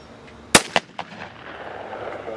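A shotgun fires at a clay target, a single sharp, loud blast that decays quickly, followed by a few fainter echoing reports, with no talk.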